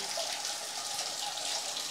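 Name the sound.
natural spring water flowing at a temple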